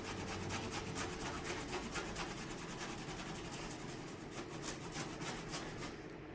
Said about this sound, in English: You just grate it down.